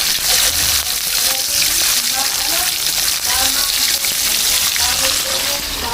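Onion and garlic sizzle steadily in hot oil while being sautéed for a papaya stew, a constant loud frying hiss with stirring, and a voice talking over it.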